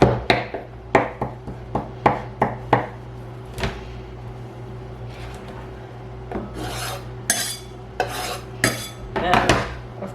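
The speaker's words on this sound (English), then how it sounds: "I'm just slicing up a bit of that" Fresh farm-grown basil being sliced with a knife for a garlicky tomato salad, heard as irregular, crisp cuts and taps close by, with a brief scraping rustle near the end and no talking.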